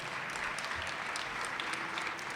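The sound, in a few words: audience applause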